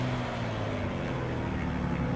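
Aeroelvira Optica aircraft engine idling in the MSFS 2024 flight simulator, a steady low droning hum with harmonic tones, continuous and unchanging throughout.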